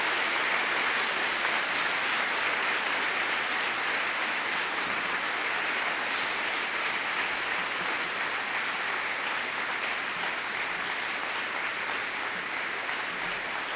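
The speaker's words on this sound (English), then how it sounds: "please join me in a round of applause for all of our veterans" An audience at a Veterans Day 2016 high school ceremony in Apple Valley honors veterans with a sustained round of steady, dense applause filling a large hall from start to finish.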